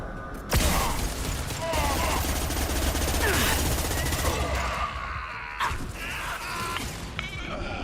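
Rapid automatic gunfire in the Mass Effect 2 Overlord mission, loud bursts of clattering shots running almost continuously with mechanical clanks and brief voice fragments mixed in.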